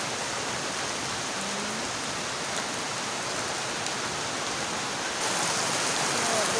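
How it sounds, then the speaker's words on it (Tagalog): Heavy rain pouring down outdoors, a dense, steady hiss with no breaks and a slight swell in loudness near the end. "Kusog sa ulan."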